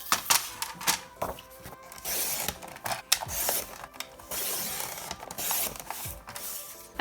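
Paper is sliced on a trimmer, with sliding blade strokes, clicks and rustling handled paper, close by and without talk.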